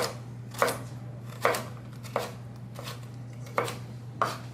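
A knife chops through stacked vegetable planks to cut julienne, six crisp separate strokes against a board at an unhurried, uneven pace, close and fairly quiet over a steady low hum.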